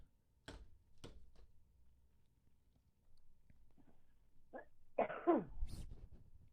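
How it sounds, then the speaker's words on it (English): A few sharp coughs, close and fairly loud, with quieter rustling and small mouth noises between them in a quiet room. "No, I coughed."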